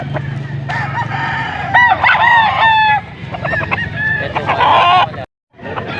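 A gamefowl stag crows several times close by, its ragged calls overlapping with clucks and other fowl around it, and one brief silent gap near the end.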